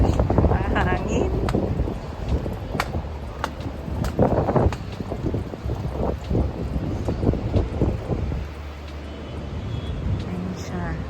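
Strong, gusty wind buffets the microphone at a cold beach overlook in Da Nang, Vietnam, a steady roar with rising and falling gusts throughout, while people talk faintly underneath.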